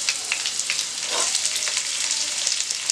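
Chopped onions frying in hot oil in a pan while a masala is being prepared for chicken lollipop, giving a steady, close, crackling sizzle with small pops throughout.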